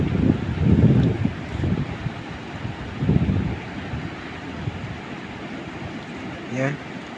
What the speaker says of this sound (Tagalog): Yung alon mga Kiboy may kalakasan din